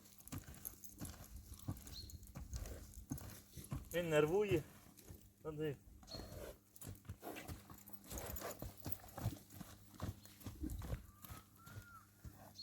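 A horse's hooves clip-clop irregularly on hard ground as it is led into a stable, close and moderately loud, with a whinny partway through and a person speaking briefly over the steps.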